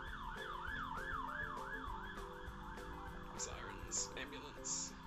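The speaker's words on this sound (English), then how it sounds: "Sirens, ambulance." An ambulance siren wails in a rising and falling cycle, fairly distant and steady, before sharper yelping tones and short horn-like bursts take over near the end.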